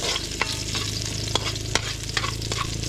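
Onion and garlic frying in a pan for adobong pusit, a steady sizzle broken by several sharp spoon scrapes and taps, close up, over a constant low hum, with no talk.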